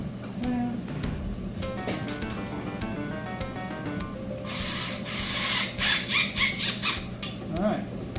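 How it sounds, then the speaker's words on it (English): Tools work an oil return hose clamp on a turbocharger fitted to a GC Impreza's EJ207 engine, giving close metallic ratcheting clicks and squealing scrapes, with a burst of harsher rattling partway through. "Now we just got to tighten up the oil return hose clamp."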